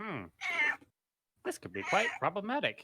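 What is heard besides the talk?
cat meowing for attention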